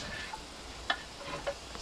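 Onions go into a pan of carrots and garlic frying for fried rice, giving a steady close sizzle with a few light taps and stirring clicks over it, and no voices.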